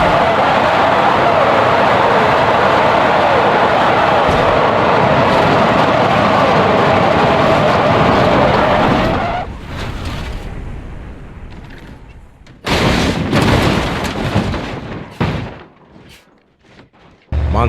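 A prison bus in BeamNG Drive, heard as a loud, roaring, continuous rumble for about nine seconds, then falling into quieter rumbles broken by sharp crashing bursts.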